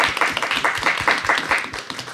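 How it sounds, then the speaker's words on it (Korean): Brief burst of scattered audience clapping at a music network forum in Korea, a mix of near and farther hands over a low room murmur, with no talking. "통역분들한테 좀 박수 좀 주시죠"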